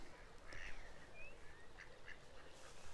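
Ducks quack a few times in short, scattered bursts, fairly distant and soft, against a low outdoor rumble at Thornton Reservoir, Leicestershire, with no talking.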